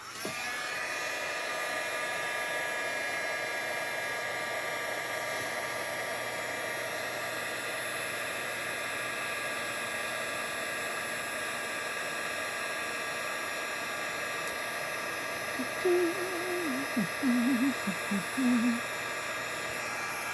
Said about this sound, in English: the white embossing powder kind of gives you a more solid white image. So let me heat that up.